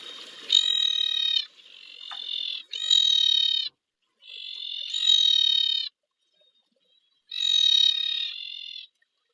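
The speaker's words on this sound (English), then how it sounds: "the screaming tree frog. And it sounds just like a loud ma." Screaming tree frog from the southern population calling in four loud, harsh harmonic bursts of about a second each, separated by short gaps, close and clear with no talk.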